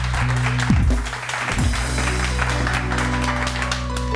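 Studio audience applause on a Pakistani morning TV show, steady crowd clapping sustained throughout at moderate loudness, with faint background music tones underneath.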